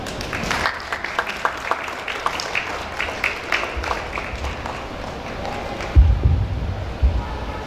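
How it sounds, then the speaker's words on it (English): A school audience of parents and teachers claps for Grade 4 students' performing arts presentation, scattered and moderately faint, trailing off with light background stirring. "Please applaud their efforts."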